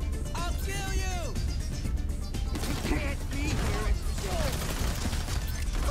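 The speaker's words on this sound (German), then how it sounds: "Irgendeiner schießt hier noch wie doof." Gunfire in the online game GTA 5 Online crackles in fast bursts under dense in-game noise. Overlapping voices and other game sounds run through the whole stretch.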